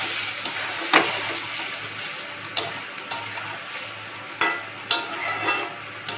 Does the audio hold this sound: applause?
no